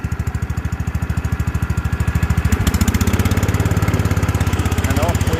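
An old tractor engine chugs steadily nearby with an even, rapid thumping beat that grows slightly louder and rougher partway through as it pulls away across a field, with someone talking faintly over it.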